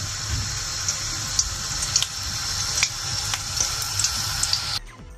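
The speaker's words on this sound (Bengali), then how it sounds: "গাইস এখন আমি এখানে সমোসাগুলোকে ভেজে নিচ্ছি।" Homemade samosas fry in a pan of hot oil, giving a steady bubbling hiss dotted with sharp pops and crackles before the sound cuts off abruptly near the end.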